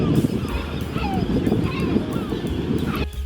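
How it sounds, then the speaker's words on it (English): Gulls squawk and cry loudly overhead at an ocean lighthouse, several birds calling over one another in a continuous noisy commotion. "I appeared to have caused some fuss with the gulls."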